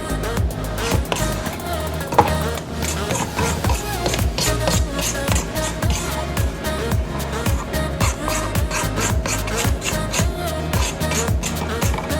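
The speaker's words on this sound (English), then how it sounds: "So scrape the sides, guys, to make sure everything is incorporated." A spatula repeatedly scrapes the sides of a mixing bowl of Jamaican rum cake batter, producing a fast, steady series of close, rhythmic scraping strokes and knocks that continue without pause.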